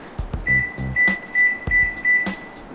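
Five short electronic beeps from a convection microwave oven's keypad as buttons are pressed, evenly spaced and clear, with faint clicks in between and no talking.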